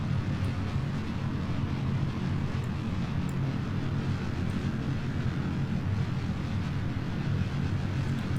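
Rocket engines in Kerbal Space Program roar as a steady, dense low rumble that fills the whole stretch without a break, loud and constant with no voices over it.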